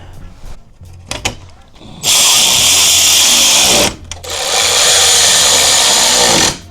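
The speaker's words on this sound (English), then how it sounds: "so I'm gonna go ahead and tighten this clamp" A power tool spins loudly up close while tightening a hose clamp on an Audi B9 SQ5 intake, with two sustained whirring runs of about two seconds each after a few brief clicks and handling sounds.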